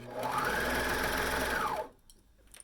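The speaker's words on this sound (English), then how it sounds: "gently stretch the band as you sew here" A sewing machine stitches a stretched band onto a knit tee with a half-inch seam allowance, running in one steady, close whirring burst for about two seconds before stopping abruptly.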